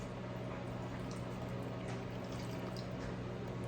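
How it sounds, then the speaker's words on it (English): About 1 1/4 cups of lukewarm water pour steadily into a sourdough mixture, a continuous even splashing wash that stays at one level throughout with no voices. "I'm also going to put 1 1/4 cups of lukewarm water. Pour that in there."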